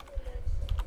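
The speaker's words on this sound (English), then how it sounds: "So we need to type something in here." Brief, quiet burst of keystrokes on a computer keyboard, a few soft clicks in quick succession with no one speaking.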